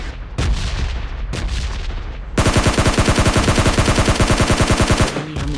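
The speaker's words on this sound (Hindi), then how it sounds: "अभी हम इसके ऊपर 20-30 हज़ार गोलियाँ चलाते हैं" Rifle gunfire in the mobile shooter PUBG Mobile Lite: a few separate shots first, then a long rapid automatic burst of evenly spaced cracks, loud and close with no talk.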